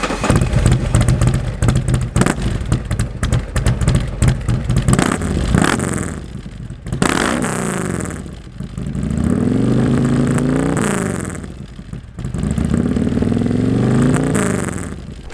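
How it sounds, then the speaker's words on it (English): A 2017 Harley-Davidson Road Glide Ultra with a D&D 2-in-1 exhaust and ghost pipe idles with a loping rumble, then revs hard twice in long, loud, deep swells close by. "D&D 2-in-1 exhaust with a ghost pipe. Love the sound of that exhaust."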